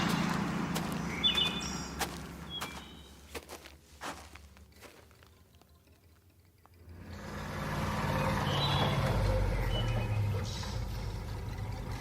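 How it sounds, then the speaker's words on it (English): A truck arrives in a radio drama, its engine rumble swelling from quiet to a loud, close idle after a stretch of scattered clicks, knocks and footsteps. "There's the truck."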